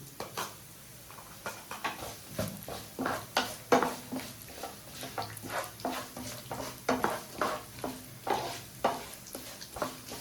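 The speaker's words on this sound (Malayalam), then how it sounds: "എള്ളിട്ട പിന്നെ അതിൽ നേരിട്ട് വറക്കേണ്ട ആവശ്യമില്ല പെട്ടെന്ന് എള്ളു മൊരിയും" Sesame seeds roasting in a pan for neyyappam, a soft sizzle with repeated scraping stirs in an irregular rhythm, close and fairly quiet, no voices.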